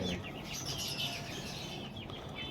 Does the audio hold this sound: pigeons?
yes